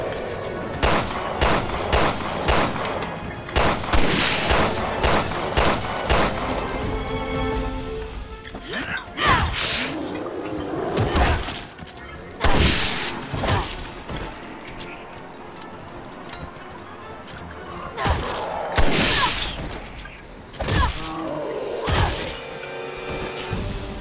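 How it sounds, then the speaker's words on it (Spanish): Gunfire from the co-op survival horror game Resident Evil Revelations 2 rings out in repeated loud shots and bursts, with crashes and smashing over about twenty seconds, while players speak under the action. "acabo de abrir la cabeza de un disparo"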